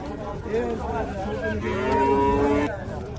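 A local-breed cow moos loudly nearby at a livestock market in two drawn-out calls, the second longer and rising, over faint background noise.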